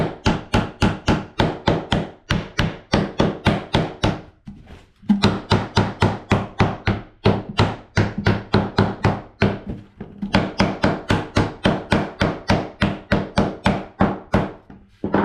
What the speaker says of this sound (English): Very gently tapping. You don't want to bust the wood right there.